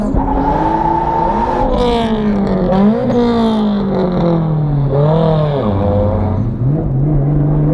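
A loud turbocharged drift car engine screams and revs through rising and falling gears, sustained and close, with whining boost between shifts.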